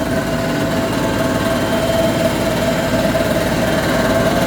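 A steady, low tractor engine drone runs without pause, a constant idling rumble with a faint whining tone on top and no voices.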